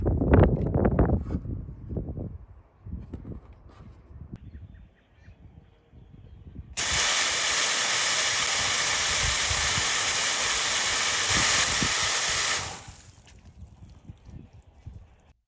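Loud, steady hiss of water spraying under pressure from a cracked outdoor faucet pipe, starting abruptly and running for several seconds before cutting back to quieter background.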